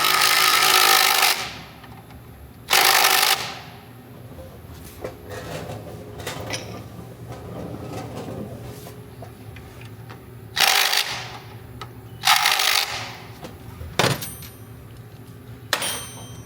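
A power tool drives engine mount bolts on a 2006-or-later Harley-Davidson Dyna in several short, loud, close bursts separated by quieter gaps filled with small handling clatter.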